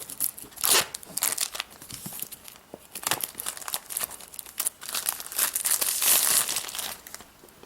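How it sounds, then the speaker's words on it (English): Plastic wrap being peeled and torn off an Apple iPhone 4S box: close, continuous crinkling and crackling with bursts of tearing and rustling over several seconds, with no talking. "All right, let's just get this plastic off."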